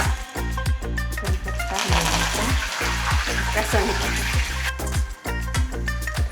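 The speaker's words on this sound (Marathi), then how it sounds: "2 चमचे तेल टाकले मी, थोडं जिरं, मोहरी," Cumin and mustard seeds sizzle and crackle in hot oil in an iron kadhai, a loud, dense frying hiss with rhythmic popping throughout.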